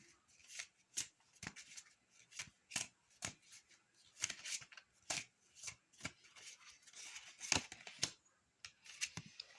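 Oracle cards shuffled by hand during a card reading, a steady run of sharp riffling flicks and papery slaps repeating close up for nearly ten seconds, with no talking.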